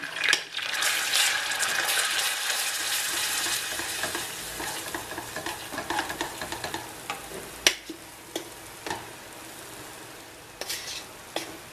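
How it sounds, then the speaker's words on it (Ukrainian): Butter and flour for a béchamel roux are stirred in a pan over heat, a steady bright sizzle carrying repeated scraping strokes and small clicks, close and continuous. "Коли масло розтоплене, додаємо туди грам 50 муки легенько і відразу помішуємо."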